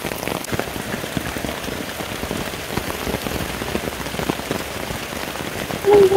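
Steady rain falls outdoors on surfaces, making a dense, even patter of drops that continues throughout with no voices, ending in a brief louder rustle.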